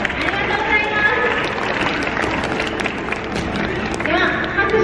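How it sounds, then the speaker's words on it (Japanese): Audience clapping and crowd noise at a sea lion show at Kamogawa Sea World, a broad steady wash of applause mixed with voices throughout. "では、拍手にお答えしてもう一つ頑張りますね。"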